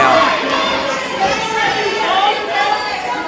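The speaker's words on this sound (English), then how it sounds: "you can hear the crowd telling Santos" A wrestling crowd at a Revolt Pro Wrestling show shouts and chatters at Santos, a loud, continuous mass of overlapping voices and jeers filling the arena.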